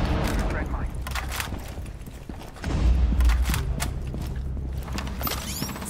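An impact grenade detonates in the Rainbow Six Siege video game, a heavy low boom midway through busy, continuous game noise with rattling, gunfire-like bursts.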